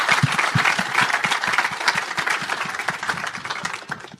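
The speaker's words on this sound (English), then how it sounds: "I want to give another round of applause and a big thank you to the Mannix family." Audience applause at a live talk, a close, thick burst of clapping with some distinct individual hand strikes, holding steady for about four seconds before easing off slightly at the end.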